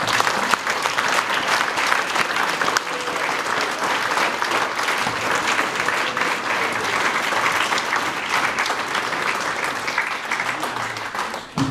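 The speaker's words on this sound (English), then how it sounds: "let's give one last round of applause for all these Eagle Scouts" A crowd gives a sustained round of applause for a group of Eagle Scouts at a Boy Scout retirement ceremony, with dense, steady clapping filling the room throughout.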